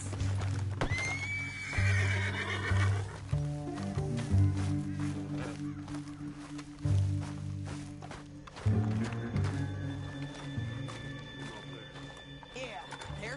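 Horses in the Red Dead Redemption 2 video game whinny and neigh loudly near the start, then hooves clip-clop at a walk and trot, with music and ambient game sound continuing underneath.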